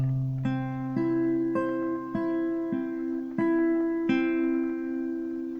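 An acoustic guitar picked note by note in a steady, repeating pattern, strings ringing over one another, played clearly and alone, accompanying a song.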